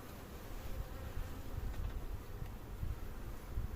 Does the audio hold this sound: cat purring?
no